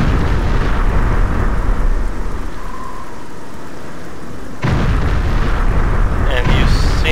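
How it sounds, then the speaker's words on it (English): A lightning spell in the Oblivion video game crackles and rumbles like a thunderstorm, a loud, dense roar with a sharp fresh burst partway through, under faint game sounds. "you've seen this lightning effect before. It's one of the spells you can get."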